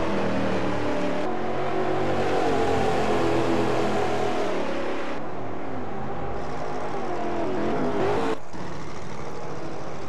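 A stock V8 race car engine in the racing game Automobilista 2 at the Jacarepaguá circuit drones loudly and continuously, with revs rising and dropping through gear changes and no talking.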